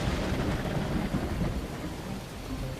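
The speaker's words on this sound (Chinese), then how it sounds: "当晚下了一场大暴雨，雷声阵阵，大雨磅礴" A heavy night thunderstorm with dense, steady pouring rain and low rolling thunder rumbling beneath it, loud and continuous with no voices.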